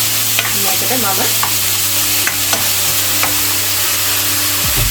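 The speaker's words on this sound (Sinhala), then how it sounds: "දැන් හොඳින් කලවම් කරගන්නවා" Kimchi fried rice with soy sauce is stirred in a hot pan, with a steady sizzle of frying under repeated scraping strokes of a utensil against the pan, continuous and close.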